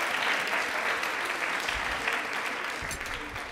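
Sustained audience applause on a Rajasthani television quiz show after a correct answer, a dense steady wash of clapping from start to finish at even loudness.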